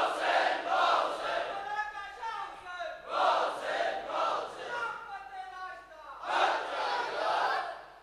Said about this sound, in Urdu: اس لیے آج کی تقریب میں حسین کے نعرے زیادہ لگنے چاہیے.